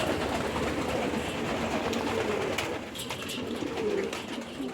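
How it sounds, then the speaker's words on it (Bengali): Pigeons coo softly at a pigeon farm in Qatar, their low murmuring calls blending into a constant hum of background noise with a few faint clicks. "এই দেখেন কবুতরগুলো অনেক সুন্দর"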